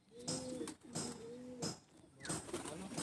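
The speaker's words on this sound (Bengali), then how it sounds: "দেখুন এটা হচ্ছে সবুজ পায়রা" Inside a pigeon loft at Bauria, flying pigeons give soft, drawn-out coos in a few spaced phrases over a noisy, rustling background with sharp knocks between calls.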